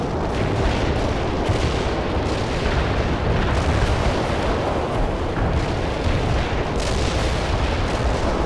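An artillery barrage pounds away in the World in Conflict video game, a sustained loud roar of overlapping blasts and rumbling booms that continues without pause and carries no voices.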